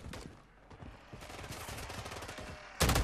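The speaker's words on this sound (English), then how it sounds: "Oh, it's a three-round burst." Three-round burst gunfire from a weapon in Call of Duty MW3 Zombies on Xbox Series X cracks in quick clusters of shots, with a louder, heavier blast near the end and no talking over it.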